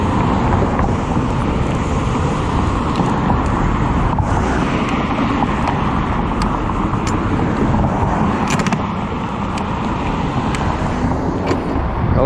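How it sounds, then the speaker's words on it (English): Busy intersection traffic heard from an electric scooter, Apollo Ghost, with loud continuous road noise and wind buffeting, passing cars and occasional sharp clicks. "Middle of an intersection with all this traffic."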